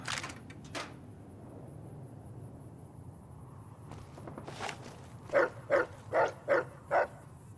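The dog companion in Fallout: New Vegas barks five times in a quick, evenly spaced run near the end, after quieter footsteps and a few soft scuffs in the game world.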